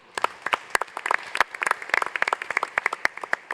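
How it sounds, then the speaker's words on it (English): An audience at the Africa Investment Forum breaks into applause, a moderate crowd of distinct individual claps heard fairly close, without voices. "give the Africa Investment Forum a round of applause for that"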